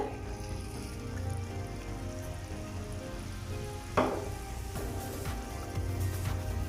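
Prawn roast frying in a pan as pepper powder is stirred in, a steady close sizzle with one sharp scrape of the spoon against the pan partway through, no talking.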